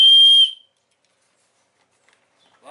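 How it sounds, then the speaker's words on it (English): A single sharp, shrill whistle blast, loud and close, lasting about half a second, followed by silence. "A whistle."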